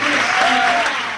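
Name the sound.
studio audience applauding the actors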